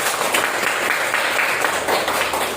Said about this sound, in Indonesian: Ya, tepuk tangan dulu semua.